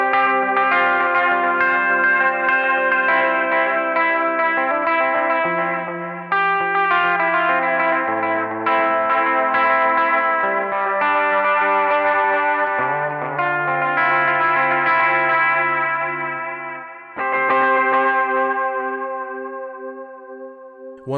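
Electric guitar played through an EHX Rerun tape echo delay pedal from a solid-state amp setup: sustained chords and melodic lines with repeating echoes and wavering tape pitch, loud and continuous, brief gaps between phrases, no talking.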